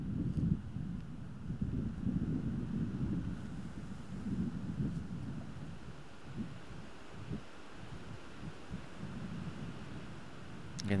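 Swirling wind gusts across an outdoor disc golf course during a tournament round, a steady low rumbling buffet on the microphone that rises and falls for the whole stretch, with no talk.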